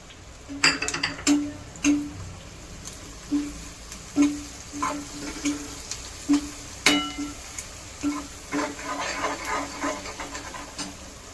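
Green chillies frying in a pan with cooked onions for a Kathiyawadi brinjal olo, with repeated sharp clinks of a spoon against the pan as it is stirred steadily, over a soft background sizzle.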